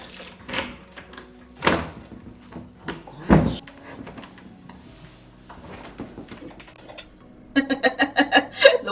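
A key is worked in a sticky apartment door, producing several scattered knocks and clunks of the handle and lock, followed by a quick series of rattling jiggles near the end.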